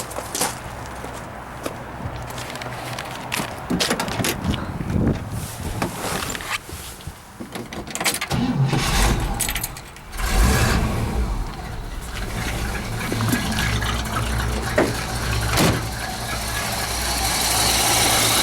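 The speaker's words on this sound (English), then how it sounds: "We'll go ahead and start the car." A 1957 Chevrolet Bel Air with its 283 V8 runs close by, the engine note steady and fairly loud over about eighteen seconds, with some handling noises and footsteps scattered through it and a short dip near the middle.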